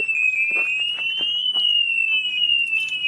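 A home alarm system set off by touching a solar panel gives a steady, loud high-pitched electronic tone that rises and falls slightly, sounding continuously over faint background noise.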